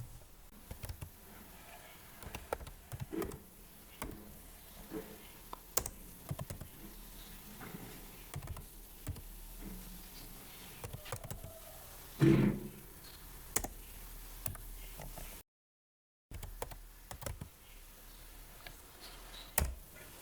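A command is typed on a computer keyboard while activating Microsoft Office 2021, heard as faint, scattered key clicks over a low hiss, with one louder thump midway and a brief dropout.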